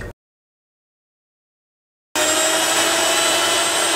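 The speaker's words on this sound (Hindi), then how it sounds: "अब इसको हम ग्राइंड करेंगे।" An electric mixer grinder blends banana, sugar and a little milk into a banana milkshake, starting after a silent gap as a loud, steady, continuous whirring roar that holds for about two seconds.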